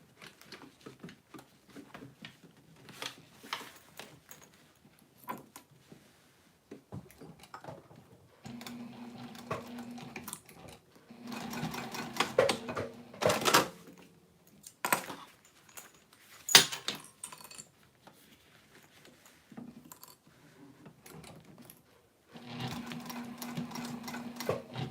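A sewing machine stitches down fabric on an Erica Bowler bag, running in several bursts of steady mechanical whirring separated by pauses, handling clatter and brief knocks, with no talk.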